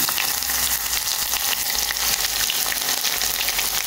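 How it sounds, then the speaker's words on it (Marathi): Mustard seeds, cumin seeds and garlic fry in hot oil in a home kitchen, giving a loud, continuous sizzle with crackling pops throughout and no talking. "थोडी मस्टर्ड सीड्स, थोडे क्युमीन सीड्स घालया. आमची लसूण"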